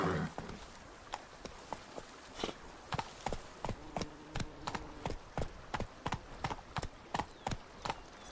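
Roach the horse gallops in The Witcher 3, steady hoofbeats clopping in a quick, even rhythm, close and clear above a faint background hum.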